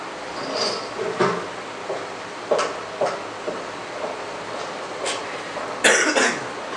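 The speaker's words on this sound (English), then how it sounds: "I had a cough." A few short coughs scattered through quiet room noise, with soft bumps and rustles between them.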